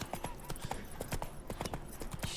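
Horse hooves clip-clop in the Witcher 3 video game, a quick irregular run of close hard hoofbeats across a couple of seconds.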